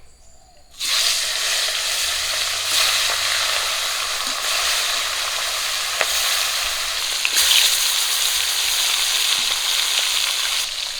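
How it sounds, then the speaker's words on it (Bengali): Hilsa fish pieces frying in hot oil: a loud, steady sizzle bursts in after a moment of quiet and keeps crackling evenly, with occasional sharper pops and a brief surge near the end. "তেল গরম হয়ে গেছে মাছ দিয়ে দিচ্ছি"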